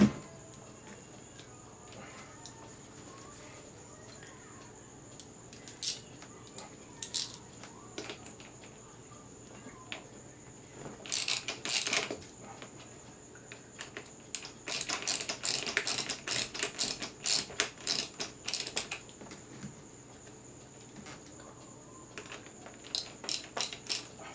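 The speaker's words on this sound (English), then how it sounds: "wrench like what I have here, 8mm, to loosen the serrated wheel nuts" An 8mm wrench works serrated wheel nuts loose on an Axial Yeti XL RC truck, giving bursts of rapid ratcheting clicks close up over a steady low hum, with quiet gaps between the bursts.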